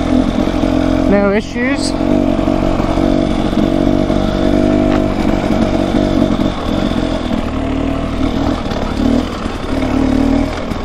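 A Husqvarna dirt bike engine runs steadily on an off-road trail, a continuous mid-pitched motor drone with slight revving, heard up close beneath a brief spoken remark.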